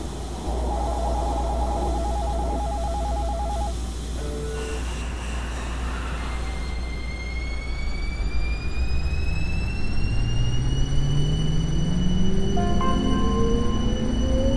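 A Cool Metro Line 15 express train pulls away from a station: a steady rumble under a chiming door tone, then motor whine rising smoothly in pitch as the carriage gathers speed, loud and close inside the car.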